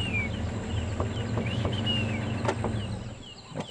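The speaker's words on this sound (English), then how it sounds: "Look, they're white-faced ducks, white-faced whistling ducks, 3 of them." Three white-faced whistling ducks give thin, high whistling calls, several short squeaky notes spaced irregularly over a quiet outdoor background at sunrise on safari.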